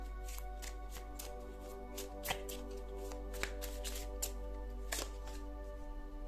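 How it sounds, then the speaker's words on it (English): A deck of tarot cards is shuffled by hand at close range, quiet riffling and flapping with scattered sharper snaps and no talking. "And let's get some more cards."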